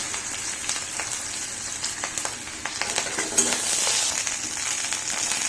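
Chopped ginger, green chilli and asafoetida frying in hot oil, a steady close sizzle with crackling pops and occasional stirring.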